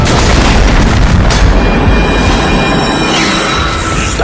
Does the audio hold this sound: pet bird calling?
no